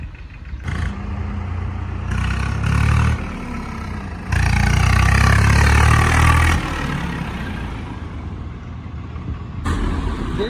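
A 2013-model tractor with about 2500 hours on it idles in a steady low diesel rumble, swelling louder for a couple of seconds in the middle, with no one talking over it.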